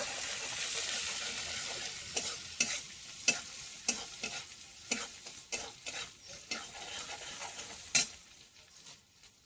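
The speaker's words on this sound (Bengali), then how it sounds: "মশলাটা একটু ভালো করে কষিয়ে নেব।" Spice masala of turmeric, cumin and chilli powder being sautéed and stirred in a frying pan for soybean singara, with steady sizzling broken by repeated sharp scraping strokes of a spoon against the pan, close and clear.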